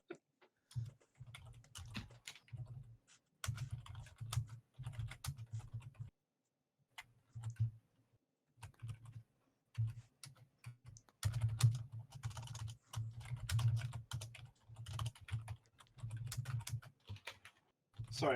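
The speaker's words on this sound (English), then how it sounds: "Sorry about Shira's typing." Fast typing on a computer keyboard, bursts of quick clicking keystrokes broken by short pauses, close and moderately loud, with occasional speech mixed in.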